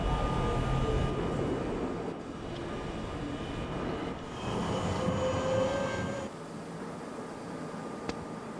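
A D subway train runs steadily in a train game on a snowy route, a continuous low rumble with a faint squeal and hum, easing off slightly near the end.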